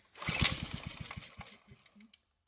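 A trash-picked portable generator engine cranks and fires into a brief stuttering run, a rapid chain of close pulses that surge and then sputter out to silence within about two seconds.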